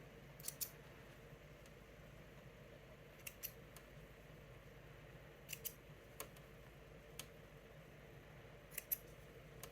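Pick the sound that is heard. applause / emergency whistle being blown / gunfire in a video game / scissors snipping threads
scissors snipping threads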